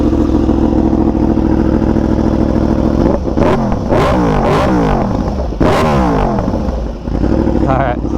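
A Yamaha R1M sport motorcycle revving hard at standstill, loud and close. A steady high idle drone breaks into several sharp rising-and-falling throttle blips in the second half.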